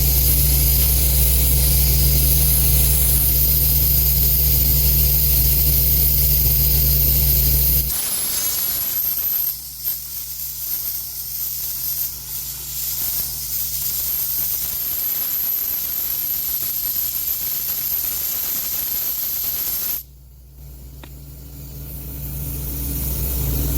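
Sandblasting on a concrete driveway to strip paint and stain makes a loud, steady spray hiss with an engine droning underneath, then drops to a quieter, uneven hiss partway through.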